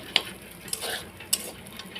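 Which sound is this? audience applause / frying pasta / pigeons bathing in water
frying pasta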